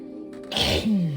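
A single sharp sneeze up close, a quick breathy intake then an explosive burst, followed by a short voiced sound.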